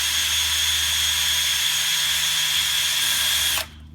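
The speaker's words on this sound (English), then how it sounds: "It's better to go slow than to drill a hole too big" An electric drill runs steadily while boring holes in sheet metal for an airplane build, a continuous high whine at even loudness that cuts off abruptly near the end, leaving quiet room tone.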